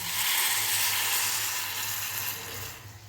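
Water is poured into sautéed vegetables in a hot pan, giving a steady, loud hiss of sizzling that slowly eases off, with no talking.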